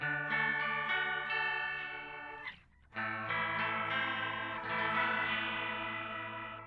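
Heavily modulated electric guitar chords swirl and warble through a thick chorus-like Boss MO-2 pedal effect, with one brief drop to near silence midway.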